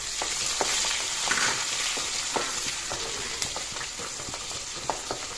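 Sliced onions sizzle in oil with panch phoron spices, a steady close frying hiss punctuated by regular clinks and scrapes of a stirring spoon against the pan.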